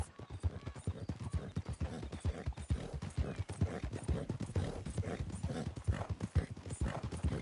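Horse hooves clip-clopping in a Wild West video game, a brisk steady rhythm of close hoofbeats with occasional snorts or whinnies, continuing throughout at moderate volume.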